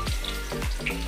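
Garlic and green chili fry in oil in a pan for a short moment, giving a steady, close sizzle with small popping crackles and no talk.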